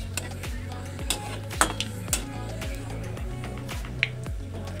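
Cumin seeds and bay leaves hit hot oil in a pan for a Sylheti boal fish curry, giving a steady close sizzle with a few light metallic clinks of utensils and no talking.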